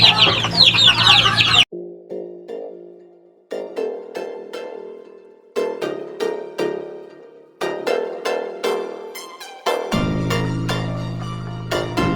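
Chickens cluck and squawk repeatedly at close range in their coop in bursts, with a loud flurry of agitated calls at the start and a low rumbling noise near the end.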